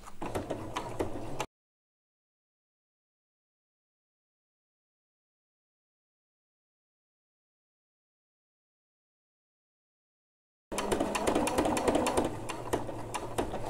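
A home sewing machine stitches the underwire casing of a Maya bra. Brief bursts of steady machine whirring are heard at the start and end, with silence in between.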